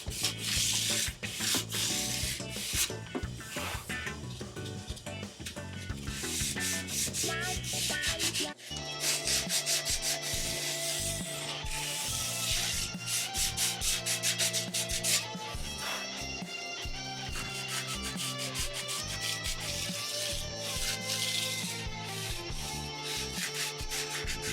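Sheets of 400 grit sandpaper work over a Stratocaster-style guitar body in a long, steady stretch of close, continuous scratchy rubbing, with a brief pause partway through and no voices.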